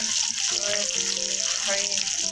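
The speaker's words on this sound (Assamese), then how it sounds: "এতিয়া মাছ ফ্ৰাই কৰি আছোঁ" Pieces of rohu fish fry in hot oil, giving a steady, dense sizzling hiss that runs unbroken and close throughout.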